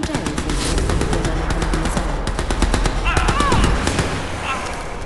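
Automated turret in Crysis 3 firing a machine gun: continuous rapid bursts of loud gunfire throughout, layered with game effects.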